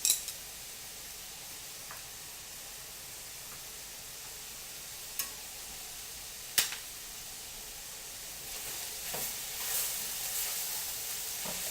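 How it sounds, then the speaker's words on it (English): Vegetables browning in a hot pan give a steady, soft sizzle throughout, with a few sharp stirring clicks and taps and a slightly louder hiss toward the end. "The vegetables are getting lightly browned."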